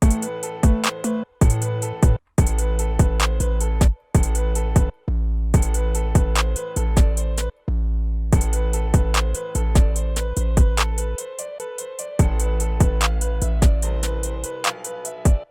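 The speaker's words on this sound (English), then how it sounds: "The most basic one is where you use 3 808s on 8 bars." A trap beat built on a basic 808 bass pattern, three long 808 hits spread over eight bars under hi-hats, snares and melody, played loud and continuous with brief dropouts and no voices.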